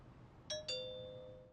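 A two-tone doorbell chime, ding-dong, sounds once indoors, its second note ringing out and slowly decaying. The chime is quiet over low background hum.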